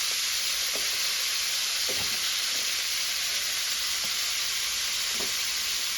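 Shredded cabbage and pork stir-fry in a hot pan, home style, hissing in a loud continuous sizzle up close, broken by a few scattered spatula scrapes and taps.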